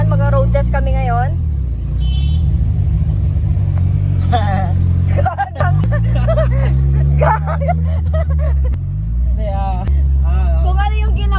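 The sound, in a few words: Mazda 323 with swapped engine on a road test drive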